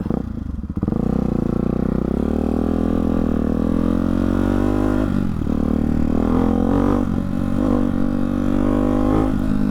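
A Ducati motorcycle fitted with a Hyper 698 S1 titanium exhaust rides along close by, its engine droning loud and steady with a rich, buzzing tone that shifts gently in pitch as the throttle changes.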